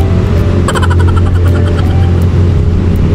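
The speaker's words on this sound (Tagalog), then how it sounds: "maingay, may motor. Tricycle yan, paahong kasi bundok kami nakatira." A steady low engine drone from a motor tricycle climbing uphill on a mountain road runs throughout, loud and close, with a brief higher-pitched rattling whine partway through.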